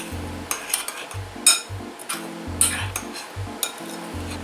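About half a cup of sugar being stirred into almonds in a bowl: repeated short scraping and clinking strokes at an uneven rhythm over a low, steady hum.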